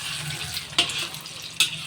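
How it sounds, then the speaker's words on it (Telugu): Eggs frying for chicken fried rice, a continuous close hiss broken by two sharp spatula scrapes against the pan as the eggs are slowly stirred into small pieces. "అలా చిన్నగా నిదానంగా తిప్పుతూ కలుపుకుంటూ ఉండాలండి. అవి ఫ్రై అవుతానే చిన్న చిన్న పీసెస్గా అవుతాయండి."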